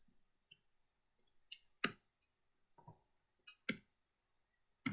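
Computer mouse clicks in short, sharp taps, faint and close in a quiet room, spaced irregularly with a couple of closely paired clicks.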